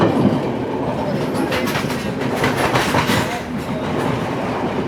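A passenger train runs along the coastal Indian Ocean route near Colombo, heard from on board as a loud, continuous rumble with rhythmic clatter of wheels on rail joints.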